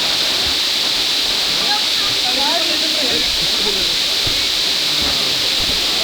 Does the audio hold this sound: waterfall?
yes